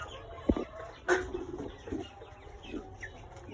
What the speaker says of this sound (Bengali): আপনারা দেখছেন আমাদের ফার্মের টাইগার মুরগিগুলো।